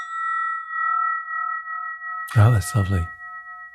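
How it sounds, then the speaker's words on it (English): A spinning bell rings with a sustained steady tone holding a few clear partials from the start, ringing on underneath as someone speaks briefly near the end. "we call this a spinning bell"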